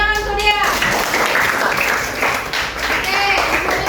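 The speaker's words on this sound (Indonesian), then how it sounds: "Tepuk tangan untuk Dea." Applause from a class of students in a school classroom, a sustained patter of many hands clapping at close range for about four seconds, with a few voices mixed in.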